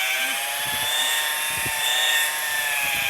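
A polishing machine spins up on its pad while removing sand scratches, giving a steady, loud whine that holds throughout with only minor swells in level.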